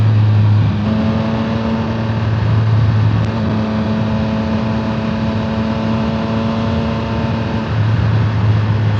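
A motorcycle ridden with an action camera mounted on it gives a steady engine drone at constant speed, dipping briefly as the rider eases off, with wind rush over it and no voices.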